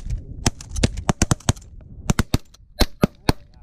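Shotgun blasts during a Canada goose hunt, a rapid irregular volley of about a dozen sharp, loud reports spaced a fraction of a second apart, some overlapping, outdoors.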